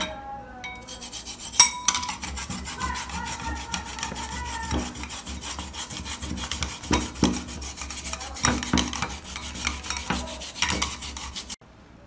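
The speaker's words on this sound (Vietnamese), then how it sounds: "Các bạn hãy bào một nhỏ khoai tây." Raw peeled potato rubbed against a kitchen grater, a steady scraping rasp repeating throughout with occasional light clinks of utensils, close and fairly loud with no talking.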